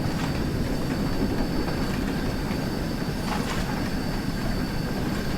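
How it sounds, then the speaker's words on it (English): An LMS Fowler 4F steam freight locomotive venting boiler pressure in a train simulator game on the West Somerset line, heard as a continuous loud hiss over a steady rolling rumble with no breaks. "I don't think I've stopped venting boiler pressure for the entire run"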